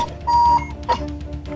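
Electronic alarm clock beeping inside a StarCraft 2 match, a steady high tone with one long ring and a shorter second burst over game background noise.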